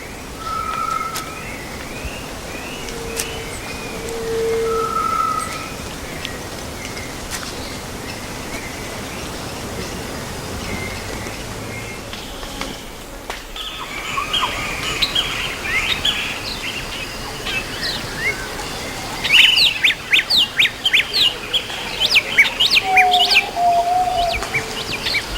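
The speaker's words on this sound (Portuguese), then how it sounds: "canto de trêmula satisfação da fêmea recém-coberta" Birds sing in the Amazon rainforest, including the trilling song of a newly mated female, with scattered chirps and whistles against a steady hum of forest insects, becoming busier and louder toward the end.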